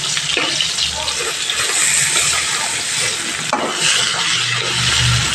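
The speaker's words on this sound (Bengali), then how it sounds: "তাই এখানে একটু তেলটা এইভাবে দিয়ে মাছটা আমি ভেজে নিচ্ছি।" Bata fish frying in oil in a pan, a continuous close sizzle and hiss with occasional spatters and a small bump of utensil contact, no talking.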